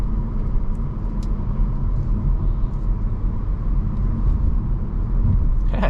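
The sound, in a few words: 2023 Audi A4 2-liter 4-cylinder engine accelerating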